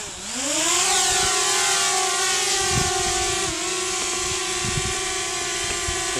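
A DJI Spark drone spins up its propellers and lifts off, a rising high-pitched whine that settles into a steady loud buzzing hover close by.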